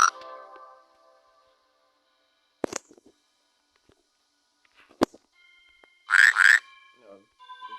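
A frog croaks in the puzzle game Rusty Lake: Paradise, two loud, close croaks in quick succession amid sparse clicks and short game tones.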